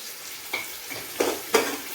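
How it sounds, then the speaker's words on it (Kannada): Onions frying in a pan for chicken dum biryani, a soft steady sizzle with a few brief stirring scrapes, close and fairly quiet, with no talking. "ಆನಿಯನ್ಸ್ ಚೆನ್ನಾಗಿ ಫ್ರೈ ಆಗಬೇಕು"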